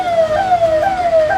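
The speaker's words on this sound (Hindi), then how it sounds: "लगातार सायरन बज रहा है" An ambulance siren wailing nonstop while stuck in a traffic jam near an unfinished railway overbridge, loud and close, its tone sweeping steadily in repeating cycles over faint road noise.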